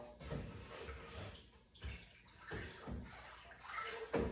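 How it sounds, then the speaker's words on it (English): Glaze chunks being scraped off the bottom of a bucket of ceramic glaze, with wet sloshing and scraping strokes repeating in uneven bursts, close and moderately loud. "So you really want to scrape the bottom, try and get all those chunks coming off."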